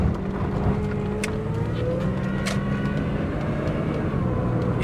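A 1998 Pontiac Grand Prix GT accelerates on the road, its engine note rising and droning steadily from inside the car, with rushing road and wind noise and a couple of faint clicks.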